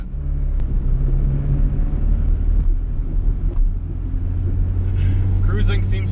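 A turbocharged Honda GSR EG hatchback drives along with a steady, loud low engine rumble throughout, and a faint higher whine toward the end.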